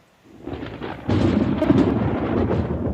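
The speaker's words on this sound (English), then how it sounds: "Let's bring him on with a thunderclap." A thunderclap sound effect played on a live podcast: a deep rumbling crack that swells after a brief silence and rolls on loudly and steadily to the end, heard alone.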